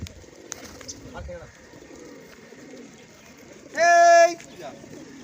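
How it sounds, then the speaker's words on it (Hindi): Pigeons being flown in a village coo softly in the background amid faint chatter, then a brief loud harmonic call rings out for about half a second near the end. "उसका भाई आज कबूतर उड़ा रहा है"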